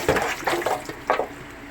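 Water pours out of a cooking pot of gizzards into a kitchen sink in a few splashing gushes, close and fairly loud, over less than two seconds.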